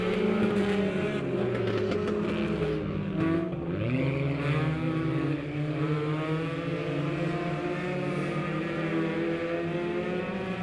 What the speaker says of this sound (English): these kids are stomping on the loud pedal as they're going to go down the back stretch